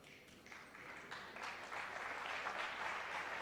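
A knowledgeable crowd applauds a snooker shot by Steve Davis in the 2002 World League final against Efren Reyes, steady clapping from many hands swelling slightly and filling the whole stretch with no talk.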